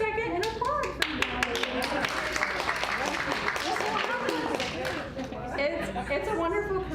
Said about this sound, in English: Take a quick second and applaud for me.